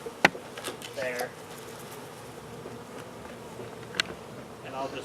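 Honey bees buzz around a hive being installed, a soft continuous drone with a few sharper near passes, while someone speaks quietly over it.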